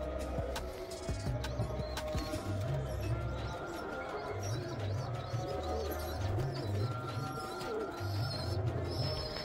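Pigeons coo in low, repeated throaty phrases in the rain against a steady background of ambient noise, with a few faint chirps now and then.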